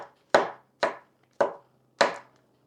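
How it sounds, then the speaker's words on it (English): A knife finely chops fresh herbs on a cutting board in a home kitchen, five crisp, separate thuds at an uneven pace, close and clear with near silence between strikes. "Look at this, finely chopping."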